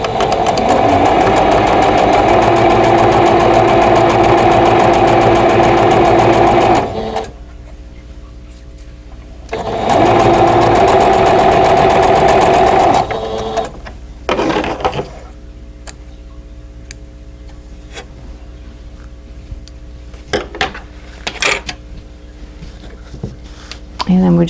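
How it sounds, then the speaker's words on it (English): A sewing machine stitches a seam on a quilt block for half square triangles, running in two loud, steady bursts of rapid whirring. Quieter clicks and handling noises sit between and after the bursts. "I'm just going to turn it and sew down the other side."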